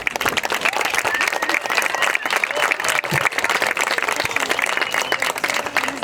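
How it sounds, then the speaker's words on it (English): A crowd applauds steadily at a senior night ceremony on a sports field, dense continuous clapping at moderate distance for several seconds. "Please take a moment to share your applause for Sammy and all of her teammates on the field tonight."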